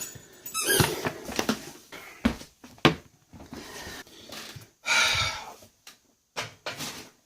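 A cheap bootleg Deadpool action figure's double-hinged knee squeaks repeatedly as it is flexed, a series of short, close, sharp plastic squeals and creaks in irregular bursts with no talk.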